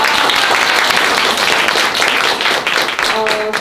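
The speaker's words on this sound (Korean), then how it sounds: "여러분 박수 한번 부탁드립니다." An audience claps at a post-screening talk during a Korean anti-poverty film festival, with loud, continuous, dense applause throughout and a hint of a voice or tone emerging near the end.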